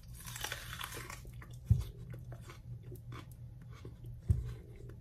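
Raw tearless onion bitten into, two sharp, close crunches spaced a few seconds apart over a quiet, faintly rustling background.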